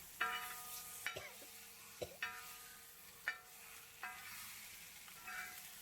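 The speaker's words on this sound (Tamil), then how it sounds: "இந்த முட்டையை இதில் போட்டு நல்லா மசாலா எல்லா பக்கமும் பரவுற மாதிரி கலக்கி விட்டுக்கலாம்." Eggs tossed in masala in a pan are stirred with quiet spoon scrapes and taps against the metal over a faint, soft sizzle.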